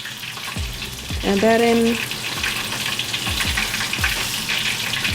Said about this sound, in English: once the oil is starting to calm down and quiet down, that's when I flip it